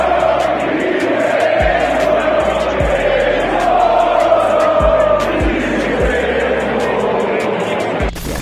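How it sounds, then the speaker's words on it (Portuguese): Atlético de Madrid supporters chant in unison before a match against Real Madrid, a loud, massed crowd roar sustained throughout with rhythmic low thumps beneath it. "Um grupo de torcedores do Atlético de Madrid cantou músicas racistas contra Vini Júnior antes da partida contra o Real Madrid"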